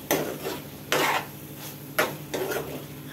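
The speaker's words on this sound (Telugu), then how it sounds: "ఒకసారి కలుపుకుందాం." A spoon stirs okra with freshly added tomato pieces in a pan, making three or four scraping, rustling sweeps over a steady sizzle, close by, with no talk.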